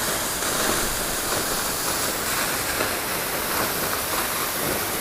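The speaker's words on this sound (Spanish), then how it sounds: "Esta cascada se llama Santa Rita" Santa Rita waterfall in La Paz, Honduras, with water crashing down in a steady, broadband roar close by and no talking.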